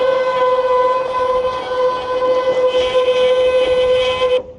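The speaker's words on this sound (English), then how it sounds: "Okay, I'm gonna run the jacks up and down here." Electric leveling jacks on an Adventurer 86FB camper run as a steady mechanical whine with a strong constant tone and overtones, holding loud and even for over four seconds before cutting off abruptly.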